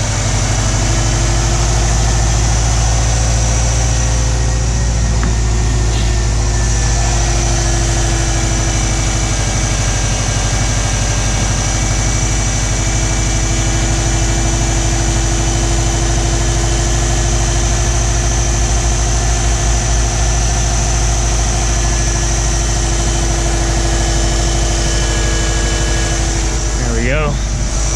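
A Subaru WRX engine idles with the air conditioning running after a head gasket replacement, a loud, steady droning hum that holds evenly throughout.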